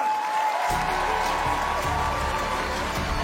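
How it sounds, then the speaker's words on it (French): A comedy show crowd applauds as comedian Guillaume Bats is brought on stage, the clapping swelling in after a moment over a steady low hum and tone, broad and moderately loud. "Alors je vous demande d'applaudir"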